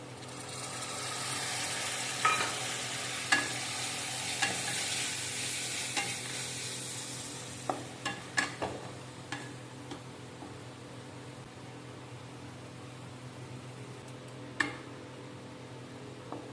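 Ginger garlic paste is stirred and fried in a pan; a strong sizzle gradually fades, broken by scattered scrapes and taps of a spatula against the pan.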